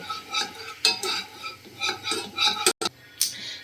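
Sugar caramel stirred in a pot, with a spoon scraping and clinking against the metal in uneven strokes over a faint bubbling sizzle, close by, with one short dropout.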